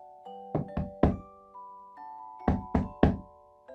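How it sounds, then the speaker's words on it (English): A Vietnamese school drum is struck in two quick groups of three hollow thumps over soft sustained musical tones, moderately loud and close. "It's the sound of the school drum."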